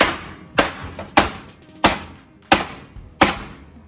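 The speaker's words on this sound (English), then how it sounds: "We'll take our hammer and smash." A hammer smashes ingredients for malted milk chocolate ice cream with six sharp, close thuds landing at a steady, even pace, each one cracking and quickly dying away.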